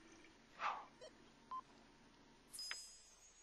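A phone rings in The Sims 3 video game with a few short, quiet electronic beeps and tones spread across a faint background.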